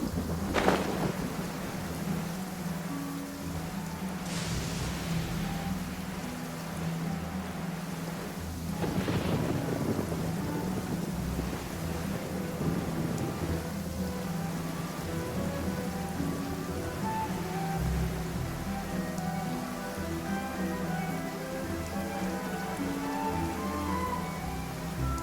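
Steady rain falls in Genshin Impact, a dense continuous hiss with a low rumble of thunder underneath. A few sharper thunder cracks break through near the start and around the middle.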